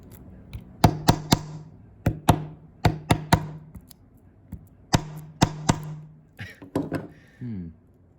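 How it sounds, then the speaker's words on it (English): Sharp repeated knocks as two encrusted copper pennies are tapped and hammered out of an old gold ring, coming in uneven bursts of three or four close, loud raps separated by short pauses. "try and knock it from the other side now"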